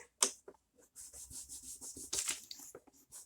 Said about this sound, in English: I'm going to take my crayon and lay it down. And I'm just going to rub so that I get a nice red color